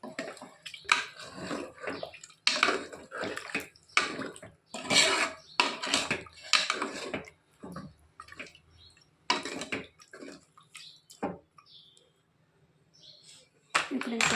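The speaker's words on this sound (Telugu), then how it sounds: "మునిగే వరకు కొంచెం వాటర్ పోసుకొని ఉడికించుకోవాలి" Water poured from a jug into a cooking pot of mutton pieces for a curry, splashing and running in bursts while a person talks over it.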